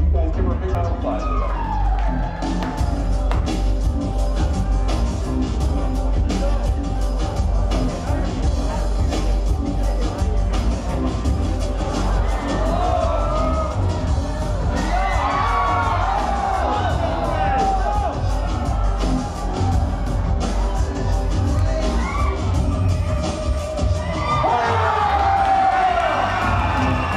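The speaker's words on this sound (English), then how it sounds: "You guys give her a big round of applause." Live audience at a variety show cheering, whooping and applauding for a performer, a dense crowd roar held steady and loud throughout, with whistles and voices rising above it.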